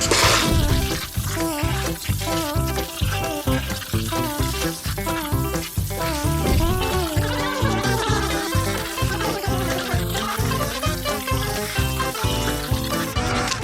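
Running water splashes steadily over muddy riding gear, rinsing soap away in a continuous loud, close gush with uneven spattering.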